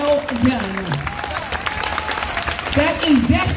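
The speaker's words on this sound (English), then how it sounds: "You ought to give yourself a random applause." Crowd at a Portland street protest applauding and clapping in a loose, scattered burst, with shouts and voices mixed through the noise.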